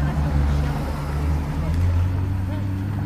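A Gumpert Apollo supercar arrives and drives past at a Paris rally event, a deep, loud engine rumble swelling near the listener while someone talks over it and a crowd murmurs.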